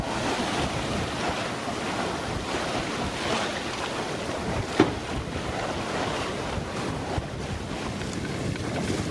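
A sailboat heels hard under sail off the west coast of Turkey at about five and a half knots. Waves and surf wash steadily around it and wind buffets the microphone, with one sharp knock partway through.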